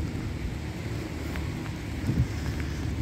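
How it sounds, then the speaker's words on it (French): Steady rain falling along the Seine quays in Paris, a constant wash of hiss with a few faint taps and spatters in the middle distance, no voices. "C'est normal, il pleut."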